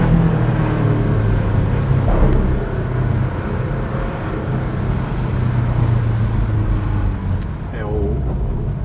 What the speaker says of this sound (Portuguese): O ronco do motor muda